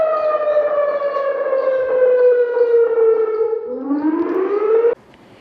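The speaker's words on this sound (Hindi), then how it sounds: "सायरन की आज आवाज़ सुनाई दी, यानी टेस्टिंग की गई" A loud civil defense siren being tested at the fort in Bhind, India, wails steadily, its pitch slowly falling, then rising again before cutting off abruptly, leaving quiet background.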